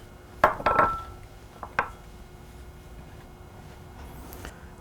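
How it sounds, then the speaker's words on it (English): A big chef's knife dices mozzarella cheese on a board, giving a short cluster of sharp knocks and a faint metallic ring, then one more tap before near silence, close and without talk. "Likewise, I am dicing my mozzarella cheese."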